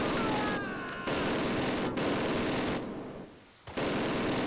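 Machine gun fire crackles from the Arnhem wartime battle game Close Combat: Last Stand, with dense bursts and scattered gunshots over a steady combat backdrop and a brief dip near the end.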